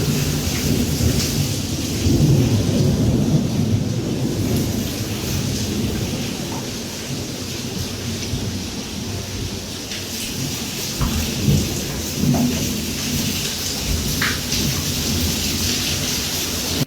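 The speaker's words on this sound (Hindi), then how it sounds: "देखिए क्या गजब बारिश हो रही है घर के अंदर।" Heavy rain pouring indoors inside a house, a loud continuous downpour with deep rolling thunder rumbling through it, surging at times, and no voices.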